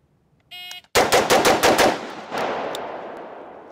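During a rifle shooting drill, a shot timer beeps, then six sharp rifle shots crack off in rapid succession, loud and close, leaving a long echoing tail that fades outdoors.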